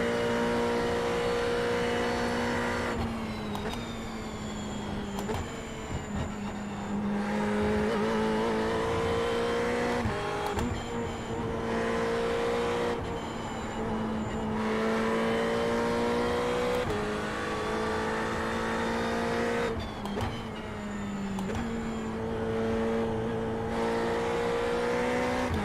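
Ferrari 488 GT3 race car in the iRacing simulator at Watkins Glen, its engine droning loud and continuous, rising in pitch through the gears with sharp upshift breaks every few seconds.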